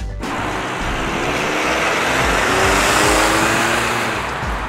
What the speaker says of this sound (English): As the car approaches, the frequency is higher than it should be.